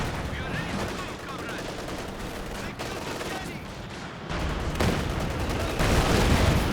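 Battle sounds from the Company of Heroes 2 strategy game, where a T-34 tank fires, with a dense stream of gunfire and explosions booming over a steady combat din, growing louder near the end.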